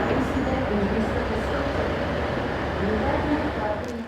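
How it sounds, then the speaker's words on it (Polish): A train rolling through Modica in Sicily in the off-season, a broad steady rumble and rattle of wheels on rail that holds level throughout and eases off slightly at the very end. "Pociąg jeździ jednak, nawet nie w sezonie"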